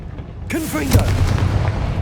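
A Confringo fire spell bursts with a sudden boom in the Hogwarts Legacy video game, one loud blast followed by a sustained rumbling crackle, with a brief vocal sound and game sounds mixed in.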